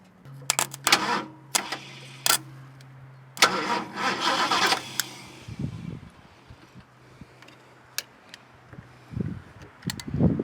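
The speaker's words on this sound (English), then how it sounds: "I think I've got a bad solenoid, even though it's clicking and making the noise" Repeated clicking from the starter solenoid of a 1969 Ford Mustang with a suspected bad solenoid, sharp clusters of clicks near and loud with a humming buzz between them.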